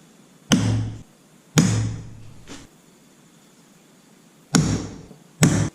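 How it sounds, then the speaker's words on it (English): Four sharp metallic taps from a center punch marking holes in metal, spaced irregularly, each ringing briefly before fading, close by with quiet between strikes. "mark these holes with a center punch"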